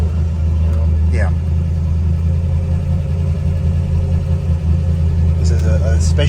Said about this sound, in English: And it revs so smooth and solid, and no matter what gear you're in, it's pulling.